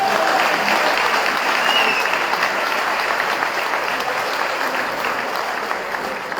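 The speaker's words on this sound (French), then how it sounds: "que je vous demande d'applaudir fortement" Loud, sustained applause from a large audience at a political gathering in Guadeloupe, dense clapping filling the whole stretch and easing only slightly toward the end.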